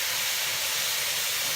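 Ground beef browning inside a Thermomix, a steady close hiss of steam and sizzle with no talk over it.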